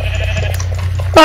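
A sheep in the video game Minecraft gives a single short, loud bleat near the end, over a steady low background hum.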